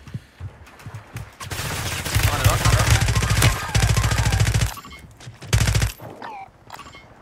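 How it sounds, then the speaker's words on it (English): Rapid gunfire bursts in Call of Duty Warzone, loud automatic fire sustained for a few seconds, then tapering into scattered shots, with brief talk between. "Shooting him in the head, but it wouldn't register a single bullet."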